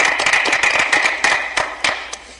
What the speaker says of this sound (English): Might as well clap for the guy.